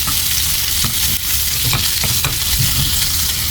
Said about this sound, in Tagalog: Haluin lang ulit.